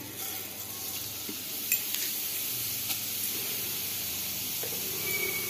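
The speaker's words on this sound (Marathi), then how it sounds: "पहिले टाकूयात जिरे। तेल गरम झालेलं आहे।" Cumin seeds sizzling in hot oil, a soft continuous hiss with a few faint clicks and stirs, fairly quiet and with no talking.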